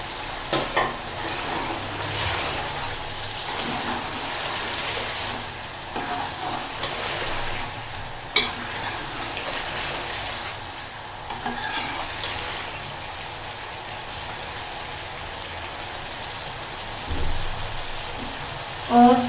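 Julienned ginger sizzling and being stirred into an achari chicken karahi, a steady frying hiss with scraping stirs running throughout at moderate level, close by.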